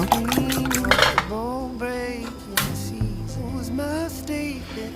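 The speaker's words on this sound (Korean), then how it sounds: "계란물을 잘 풀어주세요" Egg mixture with sesame oil beaten in a bowl: quick rhythmic clinks and taps of a utensil against the bowl, close and fairly loud, over soft background music.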